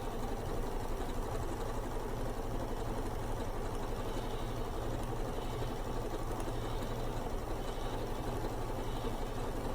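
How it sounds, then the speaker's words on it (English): Sewing machine stitching scraps of quilt fabric onto a scrap-buster quilt, a steady close mechanical whir with fast even needle chatter running unbroken throughout, with no talk. "We're just gonna sew it on there."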